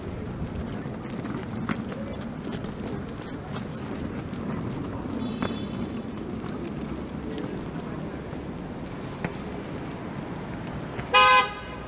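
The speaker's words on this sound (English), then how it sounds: "And that Tesla honked at me" A Tesla sounds one short, sharp horn honk near the end, on Queen Street West in Toronto on a freezing day. Before it come several seconds of street traffic and outdoor ambience.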